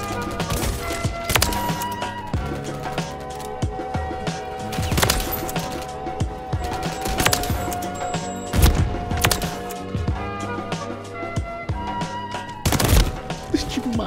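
AK-47 gunfire in Call of Duty: Modern Warfare III, rapid bursts of loud, close shots repeating through the clip amid game sounds, with a player talking in between.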